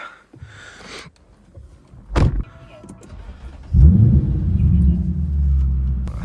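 Lexus IS-F starting up: a short cranking burst, then the V8 catches with a loud rumbling roar and settles into a deep, steady close idle.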